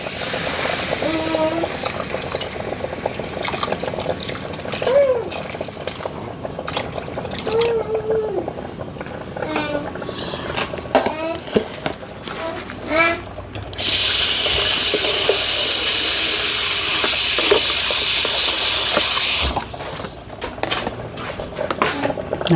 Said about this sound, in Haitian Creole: Ça que je vais faire, je vais ajouter de l'eau là-dedans.